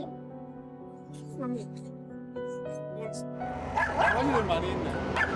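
Dozens of dogs crowded inside a house bark, yip and whimper, starting as scattered high yelps and swelling into a loud, dense chorus, with voices talking underneath.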